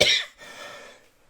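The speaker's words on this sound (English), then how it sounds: "Still got a remnant cough from a cold I had a month ago." A man coughs, a lingering leftover cough from a cold: a loud burst of harsh coughing at the start, a brief pause, then a softer rough cough trailing off.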